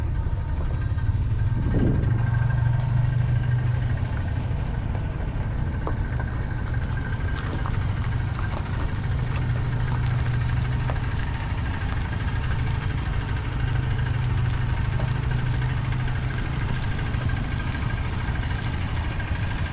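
Allis-Chalmers D15 and D17 diesel tractors idle at a vintage farm machinery show, giving a steady, even low engine rumble that carries on unbroken for the whole stretch at close range.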